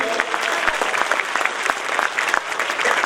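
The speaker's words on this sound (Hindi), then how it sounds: "भरपूर तालियां दोस्तों" Students and guests at an event at Iqra Public School in Neamatpur, Nabi Nagar, break into close, lively clapping with sharp individual claps popping out of the steady applause.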